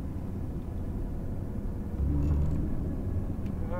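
A Porsche Cayman cruises at pit-lane speed on a race track in second gear, a steady low engine and road rumble heard from inside with a slight swell in throttle midway, no talk.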